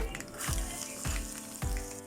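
Garlic frying in hot tempering oil with cumin and other seeds, made for Andhra-style beetroot chutney. The close, steady sizzle is cut by three rhythmic scraping stirs of a spoon in the pan.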